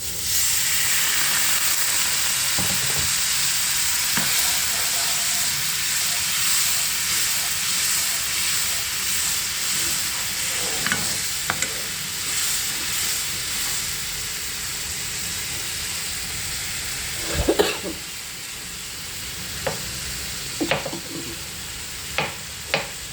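Steady hissing sizzle as water is added to a hot pan for egg curry, broad and constant, with occasional sharp clinks and scrapes of a utensil near the end.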